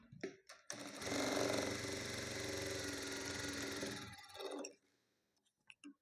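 A sewing machine stitching tucks on a blouse, a few short bursts and then a loud, steady mechanical whir running for about three seconds before stopping, followed by faint clicks.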